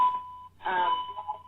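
A computer gives off an alert tone: a steady beep that stops briefly, then comes back mixed with a voice, all fairly quiet.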